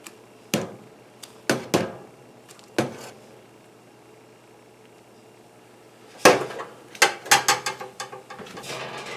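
Chopped onions stirred into home-canned tomato sauce in a pot, a spoon scraping and knocking against the pot in short separated bursts, then a quicker cluster of clacks near the end.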